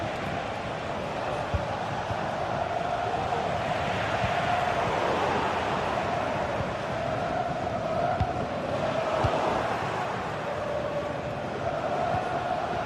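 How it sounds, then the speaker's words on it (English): Football stadium crowd at an Arsenal match roars in a steady, dense wash of noise, swelling slightly in waves, with no clear voices standing out above the broad, continuous din. "just listen to this crowd"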